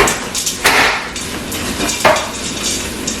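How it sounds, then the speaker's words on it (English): Lentil dahl ingredients stirred inside an Instant Pot with a spoon, giving close scraping and clattering strokes against the metal pot, with a couple of louder knocks. "I'm going to mix it up here."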